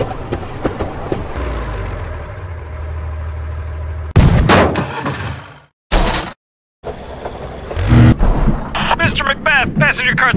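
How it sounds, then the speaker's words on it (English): Loud explosive blasts and crashing impacts from The Henry Stickmin Collection game as a tank attacks a train, with a rumbling engine early on, short silent gaps, and chirpy effects near the end. "Passenger car 3 has been smashed by a tank."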